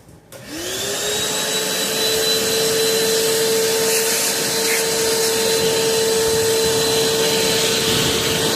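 A vacuum cleaner starts up and settles into a loud, steady whine with a sustained high-pitched tone, running continuously to the end.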